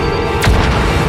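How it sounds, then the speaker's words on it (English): A grenade explodes in a Sonic cartoon: a single loud, close boom in the middle, set against a dense, busy action soundtrack. "Careful with the grenades, Vector!"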